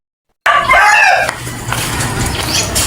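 Chickens cluck and squawk nearby, a burst of calls followed by softer scattered clucks over barnyard noise.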